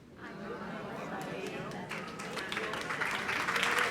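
Applause from a church congregation swells gradually into a dense clatter of many hands, building louder toward the end, with murmured voices mixed underneath.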